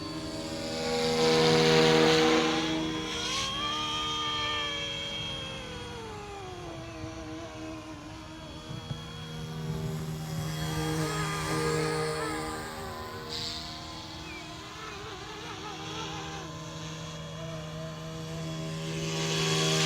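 A small Wolfbush AW-911 RC helicopter flies a figure 8, its rotor whine rising and falling in pitch as it swings nearer and farther away, with a quiet buzz throughout.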